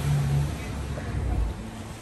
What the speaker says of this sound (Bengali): হলো গিয়ে প্যাসিফিক ওশান, তো সেই জন্যই এত সুন্দর ঢেউ